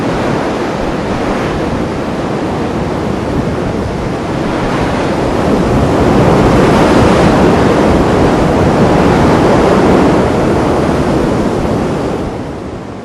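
Sea waves and wind along a rocky coast below cliffs: a loud, continuous roar of surf and gusting wind that swells in the middle and eases at the end, with no voices.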